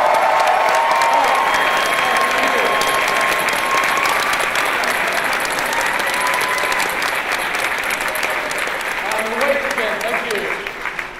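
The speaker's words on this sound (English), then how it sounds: "we want you to scream and clap" A crowd at a presentation event claps steadily and loudly, a dense continuous wash with some whoops and shouts mixed in, tapering slightly near the end.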